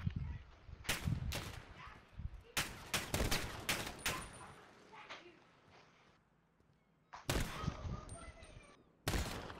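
Desert Eagle pistol fire in Call of Duty Modern Warfare, with loud sharp shots in irregular clusters and rapid bursts amid quieter game noise, and voices talking at times.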